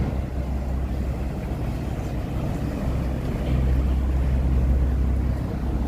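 Chicago police patrol boat cruising the Chicago River, its steady low engine rumble continuous and fairly close, swelling slightly louder toward the end with no voices.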